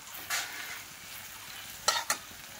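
Brinjal (eggplant) frying in a pan in a home kitchen, a soft continuous sizzle broken by a few short, sharp stirring scrapes or spatters, one early and a quick pair near the end, with no talk.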